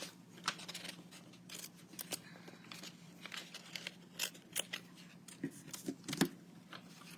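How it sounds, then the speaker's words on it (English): Small scissors cut paper for a red Christmas book craft, with quiet, close, irregular snips repeating at an uneven pace over a soft background hum. "You need some little scissors, huh?"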